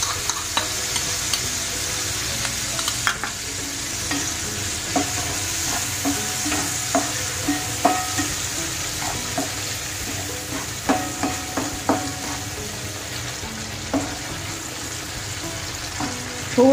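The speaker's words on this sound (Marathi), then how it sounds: "कांदा मिरची छान परतली आहेत, आपण घालूया सोया सॉस" Onions and chillies, with soy sauce and ketchup added, fry in a pan with a continuous sizzle for chicken chilli, while a spoon scrapes and clacks in irregular stirring strokes nearby.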